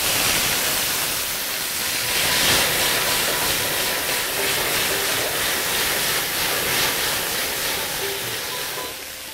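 Onions frying in hot oil for a fish chop, a loud continuous broadband sizzle and hiss that swells slightly and holds steady throughout, close up with no voices.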